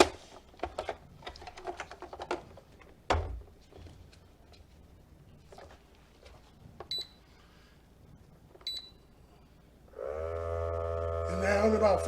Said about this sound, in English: it's going to seal it up, vacuum it up